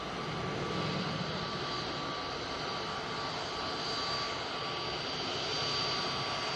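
An EasyJet airliner's jet engines roar steadily at Manchester Airport, a broad, continuous rushing drone holding at constant loudness throughout with no voices.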